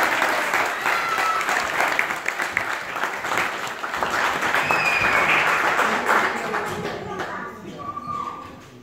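An audience applauds a young girl at a family gathering, steady full clapping that thins out and fades toward the end, with a voice briefly audible near the close.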